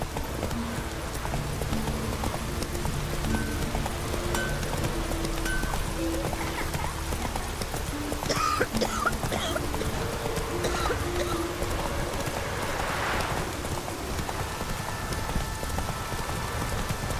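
A horse's hooves clip-clop in a steady galloping rhythm in The Witcher 3 video game, mixed with rain-like ambient noise and faint game sounds, continuous and moderately loud throughout.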